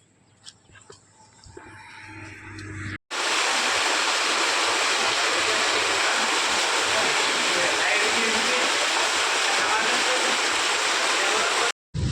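Loud, steady roar of rain-fed floodwater rushing fills most of the clip after a brief stretch of quieter sounds, continuous and close, broken only by a momentary cut.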